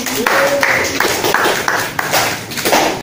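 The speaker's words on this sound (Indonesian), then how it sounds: "Tepuk tangan dulu untuk kelompok 1." Students in a classroom clap for a student group during a project-based learning lesson, a short burst of uneven, close hand claps mixed with a voice or two and a few taps.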